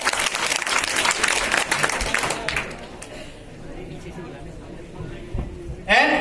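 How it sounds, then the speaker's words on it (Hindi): A crowd applauds at a farewell party at a cancer college in Gwalior, with dense, loud clapping for about two and a half seconds. It then fades into quieter room murmur and voices, and a short loud burst comes near the end. "थोड़ी तालियों में कंजूसी ना करें."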